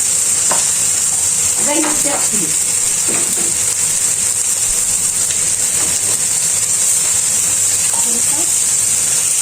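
Osso bucco browning in a pan for an osso bucco with peas and baby potatoes, a steady loud sizzle running throughout with occasional stirring scrapes and a brief spoken phrase over it.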